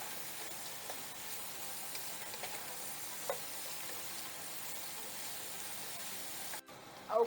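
Jerk shrimp sear in a hot pan, giving a steady, fairly quiet sizzling hiss throughout, with a short clatter right at the end as they are flipped.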